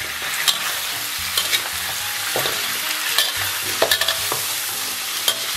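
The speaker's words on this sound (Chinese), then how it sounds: "咱们把牛尾给它下里边，给它充分煸炒一下" Oxtail pieces stir-fry in hot oil with scallion, ginger and garlic: a continuous bright sizzle, with a spatula scraping and knocking against the wok at irregular moments.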